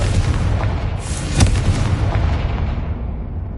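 A Confringo blasting spell explodes in Hogwarts Legacy with a deep booming burst around the middle, set against a rumbling low background that fades slowly afterward.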